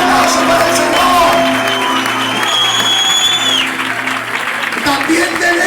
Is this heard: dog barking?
no